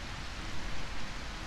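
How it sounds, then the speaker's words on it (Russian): Steady rain in the video game A Quiet Place: The Road Ahead, a dense, even hiss of falling water with no voices over it. "Дождь шумит."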